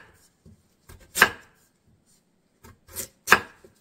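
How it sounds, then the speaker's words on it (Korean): A knife chops autumn radish for seokbakji kimchi in a series of crisp cuts, some faint and two sharper thuds on a board, spaced irregularly with quiet gaps between, no talking. "크기가 작다면 2등분으로 자르셔가지고 이렇게 자르면 되는데요"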